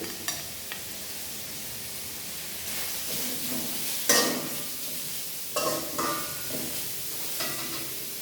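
Chopped cabbage for fried rice being stir-fried in a pan gives a steady low sizzle, punctuated by occasional scrapes and stirring clatters of the spoon, fairly quiet and close.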